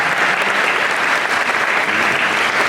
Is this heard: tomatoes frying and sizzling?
no